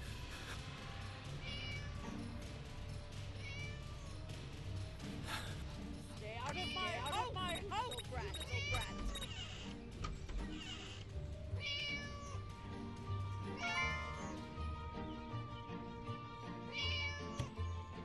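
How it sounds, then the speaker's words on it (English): A cat in the video game Scary Teacher 3D meows several times in short, close calls scattered over game sounds and background music, with a few sharper yowls in between. "That naughty cat just vanished."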